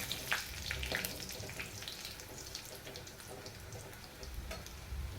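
Garlic frying in oil in a pan for a vegetable curry, a soft, faint crackling sizzle with scattered small pops, steady and unaccompanied by talk.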